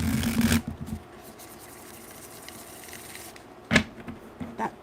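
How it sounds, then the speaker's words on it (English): Tarot cards riffled in a brief burst at the start, with a few soft card taps and handling noises later, close and fairly quiet in a room. "That wonderful sound of shuffled tarot cards."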